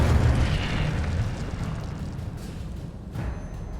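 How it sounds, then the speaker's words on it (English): Incendio fire spell from a Harry Potter video game bursts in a loud, deep blast that rumbles and then decays over a few seconds, with a faint crackle near the end. "Incendio."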